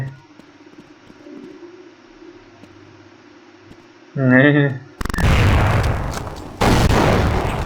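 Counter-Strike 1.6 gunfire rings out in loud, dense bursts of shots that fill the second half, following a quieter stretch of game sounds and a short tonal blip.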